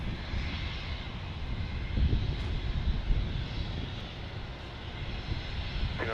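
An airplane at Dallas Love Field during thunderstorms gives a steady, broad engine roar at moderate distance, holding even loudness throughout with no talking.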